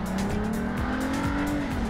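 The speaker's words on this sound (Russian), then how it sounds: "автомобіль зупинився значно раніше, ніж прогнозувала дівчина" A car brakes to a stop during a driving exercise: a loud, close engine drone runs throughout, with a faint tire squeal.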